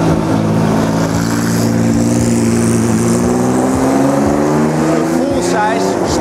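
Renault Sport R.S. 01 race car at the Jerez circuit, a steady droning engine note heard from close by with shifting pitch and some clicks and thumps, continuous and loud.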